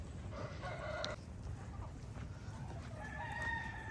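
Chickens cluck and a rooster crows in a farm chicken yard, a steady low murmur of fowl with clucks and a crow rising over it, moderately distant.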